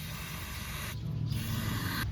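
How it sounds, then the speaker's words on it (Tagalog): A Honda cleaner spray hisses steadily onto a motorcycle disc brake in a continuous close aerosol stream, briefly changing tone midway, with no talking. "maganda yung pang spray ng Honda, pang malayuan siya"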